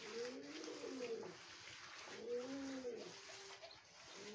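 Pigeons in a home pigeon loft give low, rolling coos, repeating roughly every two seconds over a steady background hiss.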